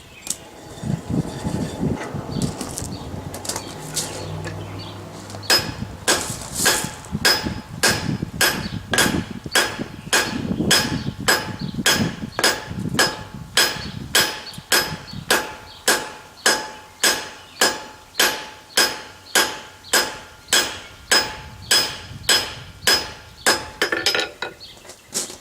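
A blacksmith's hammer pounds hot metal being spread out for a house-number sign bracket, a long run of sharp, evenly spaced ringing blows on the anvil, close and loud, after a few scattered opening strikes.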